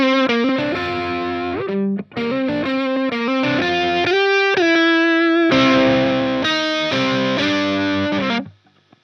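An electric guitar played through a cabinet miked with a 414 and a 57 rings out, distorted and sustained, with chords and bent notes separated by brief gaps before fading out.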